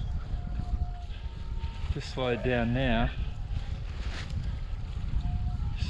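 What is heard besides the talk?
wind noise while wing surfing fast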